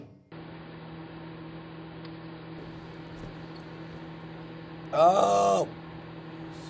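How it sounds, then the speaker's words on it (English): A microwave oven hums steadily for several seconds while warming turkey, with a brief louder burst of whirring and rattle near the end and a short spoken exclamation. "All right, put that in the microwave."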